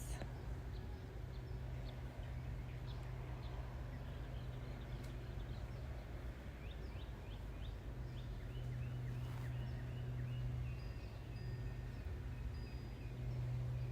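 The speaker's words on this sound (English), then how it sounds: "So many birds." Many birds call outdoors: a flurry of faint, high chirps and twitters, some in quick runs, drifts over a constant low background rumble.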